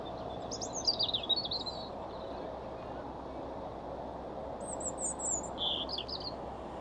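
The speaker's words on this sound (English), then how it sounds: "It's a little robin." Short bursts of high European robin song come twice, early and near the end, over steady low narrowboat engine rumble and outdoor background noise.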